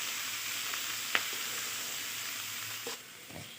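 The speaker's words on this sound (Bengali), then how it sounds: "দেওয়ার পর পেঁয়াজকলি ও আলুকে ভালো করে নাড়িয়ে নিতে হবে।" Spring onions and potatoes frying in a pan, stirred with a few sharp scrapes and clicks of a utensil against the pan, over a soft steady sizzle; fairly quiet, with no talking.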